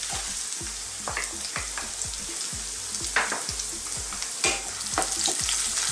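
Garlic and onion sauté in hot oil in a pan, with a constant close sizzle and quick rhythmic spatula strokes scraping the pan every half second or so, with no voices.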